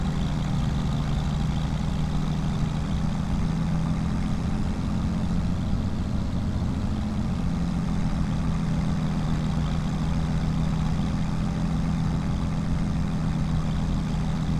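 A tractor engine labours steadily while hauling a heavy trailer about as heavy as itself, a loud, continuous low drone with no breaks and no voices.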